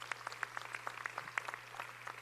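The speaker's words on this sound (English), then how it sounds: "please, a round of applause for their support" Scattered, fairly faint hand claps from a small outdoor crowd at a ribbon-cutting ceremony in Coney Island, individual claps distinct and unevenly spaced over a low steady hum.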